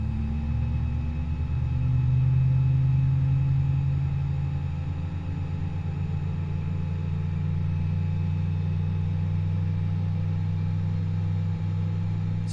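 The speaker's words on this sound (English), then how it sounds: "once one engine is running, like it is now" An Airbus A320 engine runs in the A32NX flight simulator, giving a steady, droning hum with a low rumble and sustained tonal whine. It holds evenly throughout with no voices.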